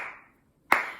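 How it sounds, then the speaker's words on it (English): Two single hand claps keeping the beat, close and crisp, each ringing briefly into a small room, with a quiet pause between them. "I'm just going to be clapping my hands because you can do that too."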